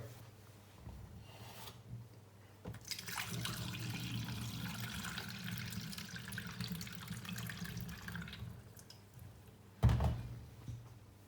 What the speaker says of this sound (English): So now we spread the yeast, we can pour